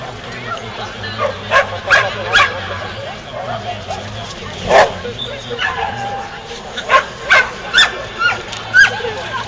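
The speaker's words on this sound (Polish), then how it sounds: "Ten piesek, który za chwilę wystartuje, również jest owczarkiem belgijskim, lecz odmiany długowłosej." A long-haired Belgian Shepherd at a dog agility competition in Warsaw, giving repeated sharp barks and yips in uneven bursts over crowd murmur and an announcer's voice.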